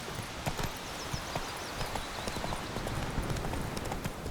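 Roach, the horse in The Witcher 3: Wild Hunt, trots with quick rhythmic hoof clip-clops on the ground, close and steady over a low outdoor ambience, with no speech.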